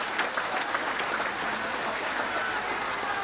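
A rugby league crowd at a Halifax v Castleford Charity Shield match applauds, a dense, steady wash of clapping from a large stadium audience heard at a distance.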